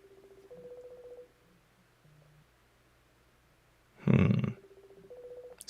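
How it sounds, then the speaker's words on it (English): Telephone touch-tone dialing, a run of rapid beeps, a short pause, then a sharp loud burst of noise and more dial tones, close and clear. "Maybe call him on the phone, get that number."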